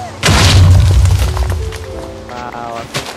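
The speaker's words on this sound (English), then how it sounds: "I think your dog got killed by that explosion." A loud creeper explosion booms in Minecraft survival gameplay, a heavy thudding blast lasting about a second, followed by lighter game sounds and tonal effects as the rumble fades.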